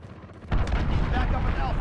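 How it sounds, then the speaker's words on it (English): Missile strike in the video game Modern Warfare, a sudden loud broadband blast that cuts in after a quiet half second and rolls on as a dense, sustained rumble of debris and battle noise, with faint game voices in the mix. "Missile launched."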